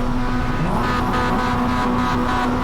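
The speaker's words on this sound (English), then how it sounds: "Engine notes set to rise." A Mazda MX-5 race car in the iRacing sim at Laguna Seca drones steadily and loudly throughout, its engine note holding an even, continuous pitch with no talk over it.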